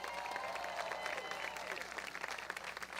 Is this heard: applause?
yes